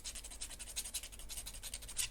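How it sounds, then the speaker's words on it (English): A hobby blade shaving excess plastic off a Perfect Grade Gundam Astray Red Frame model kit part, heard as steady close scraping strokes in a quiet room. "Shave some of that extra excess off."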